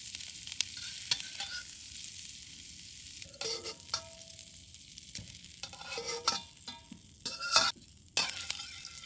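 Onion and green onion stir-frying in hot oil for kimchi shrimp fried rice, a steady sizzle broken by repeated scraping and clattering stirs that come in irregular bursts, with no talking.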